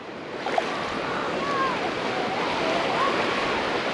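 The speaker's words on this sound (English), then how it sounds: "you can still see the water rushing out" Water rushes out of a coastal creek at Hat Head as the tide drops toward low, a faint, even wash with no break and a few soft bird calls over it.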